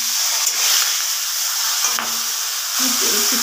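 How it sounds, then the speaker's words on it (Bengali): Fish frying in a wok in a home kitchen gives off a steady, close sizzling hiss that carries on without a break, with no voices over it. "আমি এখন দেখতে পাচ্ছি কড়াতে মাছ হচ্ছে"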